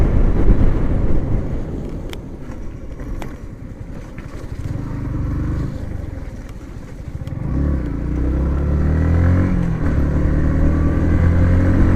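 A motorcycle rides along a hilly road in Munnar, Kerala, its engine droning close and steady, then revving higher and stronger through the second half with wind rush and no speech.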